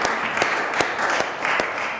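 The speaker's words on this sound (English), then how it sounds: "Let's give them a round of applause." Applause breaks out for two doctors after a COVID-19 update briefing in Springfield, Massachusetts, a short burst of clapping with a few sharper claps standing out.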